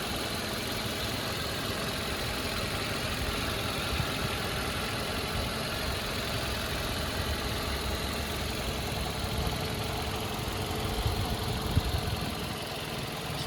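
A 2010 Toyota Auris 1.8 automatic idles with a steady, smooth hum and faint ticking, heard up close with no talk and no change in pitch.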